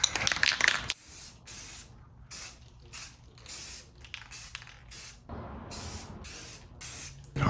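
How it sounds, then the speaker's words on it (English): An aerosol spray can paints a car radio part from a 2007 Honda Civic Si in a series of close, hissing bursts of varying length separated by short pauses, with a longer spray near the start. "I'll spray paint it right now"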